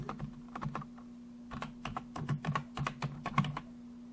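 Quick, irregular key clicks on a computer keyboard as a file name is typed in machining software, with short bursts and pauses, close and fairly quiet, no talking.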